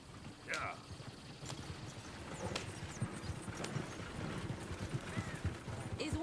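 Horse hooves clip-clopping in the video game Red Dead Redemption 2, a steady rhythmic trot at moderate distance, with a brief whinny-like call early on and voices talking over it.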